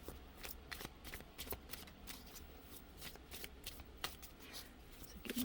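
Tarot cards being shuffled and pulled: a steady run of crisp riffling flicks and soft paper slaps, close and fairly quiet, with no talking.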